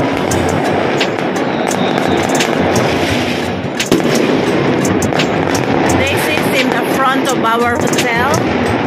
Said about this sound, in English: Have fireworks here.